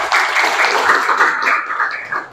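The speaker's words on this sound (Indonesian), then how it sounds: "Tepuk tangan." Schoolchildren in a classroom applauding during a poetry lesson, a brief burst of many hands clapping together, fairly loud and close, tapering off at the end.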